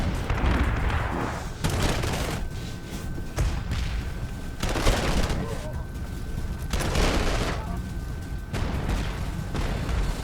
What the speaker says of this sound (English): So we'll just bomb the anti-tank there.